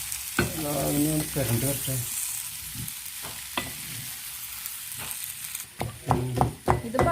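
Tapioca pieces fry in a pan for kolli upperi while a spoon stirs them, a constant sizzle broken by scraping clanks. Someone speaks briefly near the start and again toward the end.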